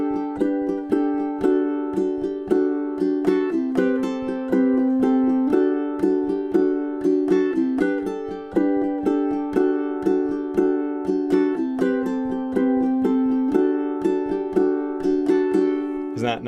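Ukulele playing a melody, bright plucked notes over a steady strummed pattern, close and continuous with no talking.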